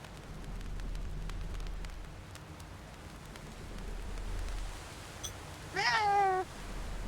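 A cat meows in the video game Reka, one clear drawn-out meow near the end after quiet background ambience with a low rumble.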